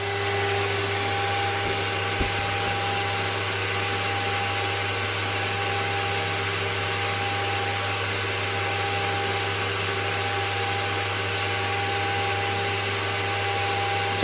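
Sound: VFD driving 2.2 kW water-cooled CNC spindle

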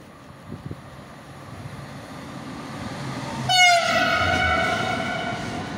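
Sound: TGV Duplex high-speed train passing slowly

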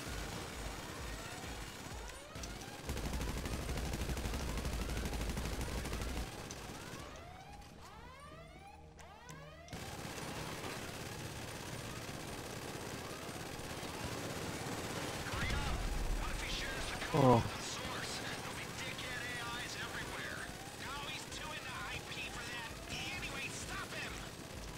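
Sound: gunfire in video game GTA V

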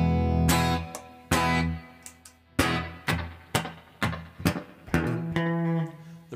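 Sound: electric guitar with heavy reverb on the amp

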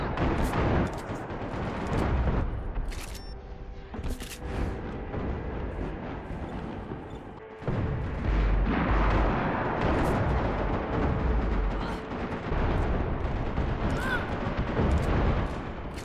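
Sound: gunfire in a video game

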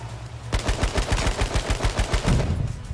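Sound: gunfire in a battle royale video game

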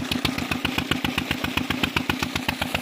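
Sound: small engine running a village tubewell water pump

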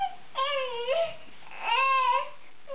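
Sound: baby crying in background, teething

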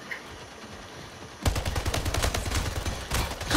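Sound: gunfire from the video game Splitgate

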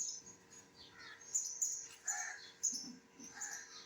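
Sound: birds chirping in a tree outside the window

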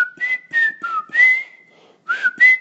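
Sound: person imitating repetitive whistling

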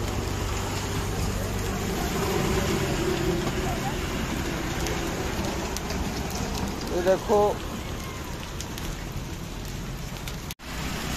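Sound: hailstones falling

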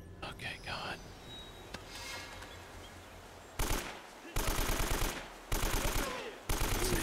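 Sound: shotgun gunfire in video game Uncharted: Drake's Fortune

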